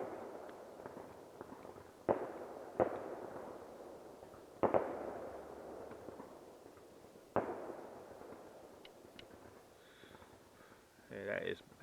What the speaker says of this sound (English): Bloody fireworks come out.